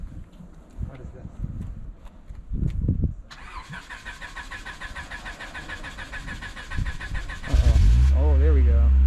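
A 25-year-old JDM car at a Japanese dealership cranks and starts up, its engine settling into a steady idle nearby, then revving louder near the end, with people talking in the background.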